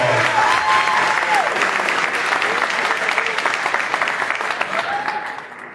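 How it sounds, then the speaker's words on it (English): Sustained audience applause at a high school football letter-of-intent signing ceremony: dense, even clapping from a sizable crowd that holds steady and tapers off at the end, with faint voices mixed in. "round of applause."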